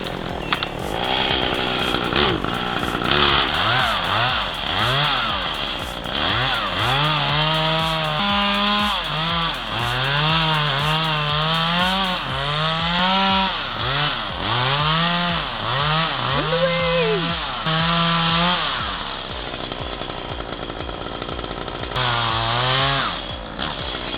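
A chainsaw cuts into a tree, loud and close, its engine surging and dipping in repeated rising and falling strokes as it bites through the wood, then dropping back before one last rev.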